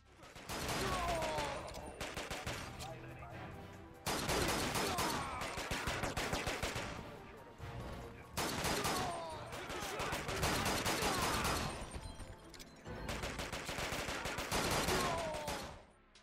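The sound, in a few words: gunfire in the video game 007: Quantum of Solace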